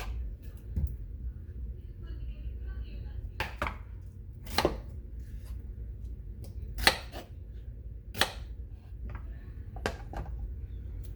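Onions being chopped on a board with a knife, sparse sharp taps at irregular intervals, close but fairly quiet over a low background hum, no talking.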